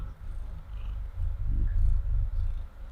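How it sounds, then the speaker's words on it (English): A pet cat purring close to the microphone, a soft, low rhythmic rumble swelling and fading over a few seconds, with no talking. "I'm gonna see if I can get her purring."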